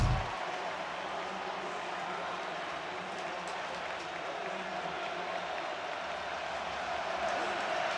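Stadium crowd at a college football game between Michigan and Washington: a broad, continuous roar of many voices and cheering at a steady distance, with a commentator talking over it.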